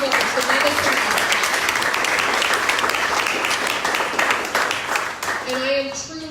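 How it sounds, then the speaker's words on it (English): A crowd applauds steadily for several seconds, the dense clapping fading near the end as a voice begins speaking. "please just give a round of applause to all of the candidates"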